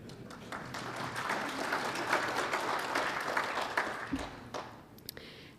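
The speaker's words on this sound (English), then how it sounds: "You can clap if you want to." An audience applauds after a presentation on recruitment and retention in Alberta, a dense, steady burst of clapping that holds for about four seconds before thinning into a few scattered claps.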